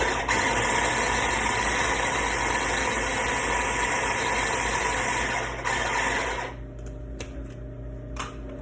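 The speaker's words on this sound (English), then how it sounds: "If y'all wondering what I'm doing, this is my little chopper." A small electric food chopper whirs loudly and steadily while chopping an onion, then cuts off abruptly near the end, leaving quieter rattles and clicks.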